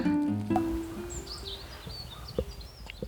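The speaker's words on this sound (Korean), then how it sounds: "많은 새는 아닌데 지저귀는 새소리가 들립니다." Scattered, faint birds chirping outdoors on a hill trail in spring, with short high tweets over soft rustling and a low background hum.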